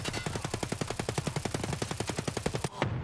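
Rapid automatic gunfire in Escape from Tarkov, a long sustained burst of evenly spaced shots lasting close to three seconds and then cutting off abruptly, loud and with no talk.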